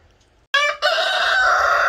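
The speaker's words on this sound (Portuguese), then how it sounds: "Os galos cantando." A rooster crows loudly and close by at a farm hotel in Brazil, a brief break, then a long sustained crow continuing to the end, with no talking.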